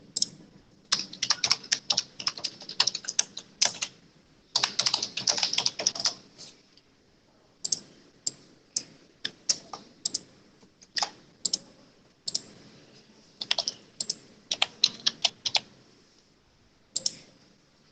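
Fingers type on a computer keyboard in irregular bursts of quick, crisp key clicks separated by short pauses, close and moderately quiet, with no one speaking.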